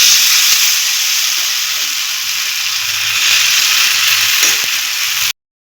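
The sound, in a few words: batter frying in hot oil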